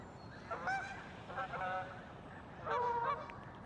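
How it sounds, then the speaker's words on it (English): Geese honking beside a river on an early summer morning in the Pacific Northwest, three loud bursts of calls a short way off over steady flowing-water hiss. "Yep, gooses are loud today."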